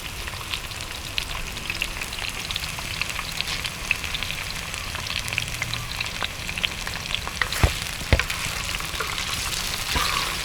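Steady crackling sizzle of glass noodles frying on a hot griddle, dense and continuous, with a few sharper pops and scrapes near the end.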